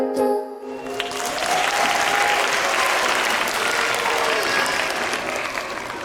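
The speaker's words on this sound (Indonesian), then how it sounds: "tepuk tangan yang meriah untuk kelompok TK" Loud, dense applause from a school arts-show audience cheering a kindergarten group, sustained at full strength for about six seconds after a brief quiet start, with faint crowd voices mixed in.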